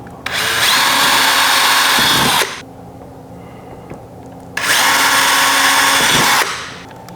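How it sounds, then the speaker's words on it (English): A power drill whirs steadily in two long bursts of a couple of seconds each, drilling holes for a bow motorization kit, separated by a short quiet pause, loud and close. "Go ahead and drill them holes."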